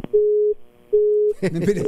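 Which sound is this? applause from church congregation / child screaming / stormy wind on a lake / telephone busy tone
telephone busy tone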